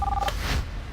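A telephone being dialed gives a short, clear keypad tone lasting a fraction of a second, then quiet room noise with no talking.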